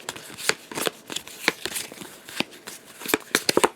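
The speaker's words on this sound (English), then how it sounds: "so we're going to shuffle and take one out" A deck of game cards is shuffled by hand, a rapid series of crisp riffling and slapping bursts repeating close to the microphone with no talk.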